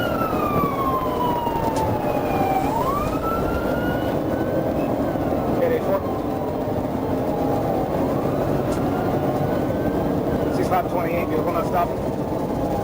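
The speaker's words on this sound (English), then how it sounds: "When lights and sirens were activated" A police siren wails and yelps, rising and falling over road noise and a running engine, fairly close.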